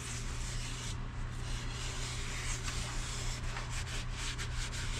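Steady close rubbing of Yorkshire Grit abrasive paste against spinning turned wood on a lathe, a continuous dry scratchy hiss over the low motor hum with no talking.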